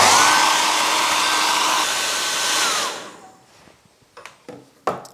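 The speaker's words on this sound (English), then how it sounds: "I'll use the dryer again." A hair dryer blows loud and steady over a watercolor painting for about three seconds, then cuts off, followed by a few light taps and knocks of paper and tools.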